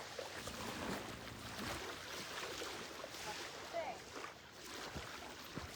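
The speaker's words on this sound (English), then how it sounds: "The water lapping up against the sand." Gentle Red Sea water laps and splashes softly and continuously against a sandy hotel beach in Sharm el Sheikh, Egypt, faint and low in level, with no clear talking.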